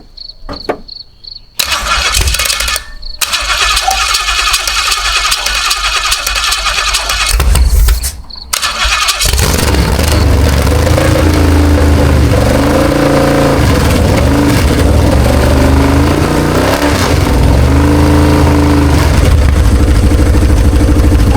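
A 1968 Holden V8 with no mufflers cranks in short bursts, then fires and settles into a loud, raw, lumpy idle with blips of revving, very close and unmuffled.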